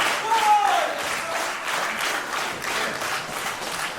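Crowd at a live wrestling match cheers and applauds steadily throughout, a dense continuous roar with a commentator talking over it.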